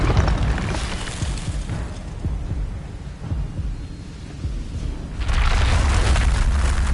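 Expelliarmus spell cast in Hogwarts Legacy, a deep rumbling boom that rolls on, fades slightly, then surges again into a loud sustained roar near the end, with no talking.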